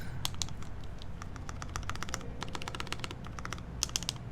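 Keys clacking on a Keycult No. 1 mechanical keyboard during a build, a steady, fairly quiet stream of irregular typing clicks with a few sharper, louder strokes near the end.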